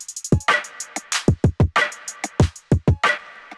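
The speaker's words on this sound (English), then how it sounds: "And then I got claps" Sampled claps in a trap drum pattern, a fast rhythmic run of sharp, punchy hits mixed with deeper thumping drum layers, loud and close with no voice.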